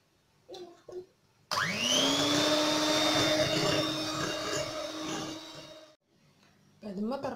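An electric mixer beats eggs, sugar, oil and milk for a cake batter, a loud whirring hum that spins up sharply, runs steadily for several seconds, then cuts off, with talking briefly before and after.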